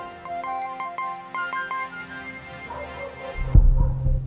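Telephone ringtone playing a repeated melodic tone pattern at moderate loudness, followed by a louder low rumble near the end.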